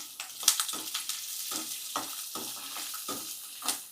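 Green chili and ginger sizzling and frying in hot oil for peanut chutney, with steady crackle and occasional stirring scrapes throughout, close and moderately loud, no talking.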